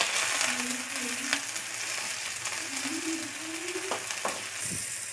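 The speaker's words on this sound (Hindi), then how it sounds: "इसके अंदर ऐड करेंगे हम ऑयल। तो इसके बाद डालूंगी मैं ऑनियन।" Long-cut sliced onions fry in hot oil in a pan, giving a steady, moderate sizzle with an occasional stirring scrape.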